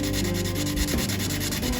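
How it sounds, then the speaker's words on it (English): Cardboard being sanded with a piece of 220-grit sandpaper glued to the tip of a popsicle stick, quick back-and-forth rubbing strokes close up, continuous and without speech. "this is a popsicle stick, and I just glue down a piece of sandpaper at the tip, and it makes a nice little sanding stick"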